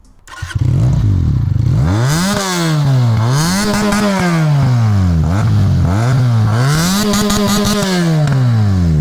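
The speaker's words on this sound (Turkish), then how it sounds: "Şimdi egzoz sesini dinleyeceğiz arkadaşlar." A loud Benelli 302S motorcycle exhaust revs hard again and again, its pitch climbing and falling in repeated surges, very close.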